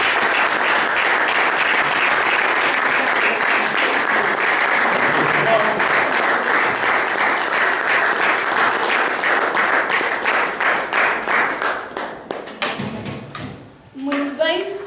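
A crowd applauds a speaker at a talk event, sustained loud clapping from many hands that thins out toward the end, with a few scattered claps, some shuffling and a voice starting to speak.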